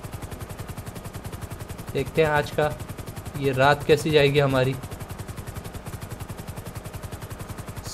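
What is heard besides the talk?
police helicopter starting up in video game GTA 5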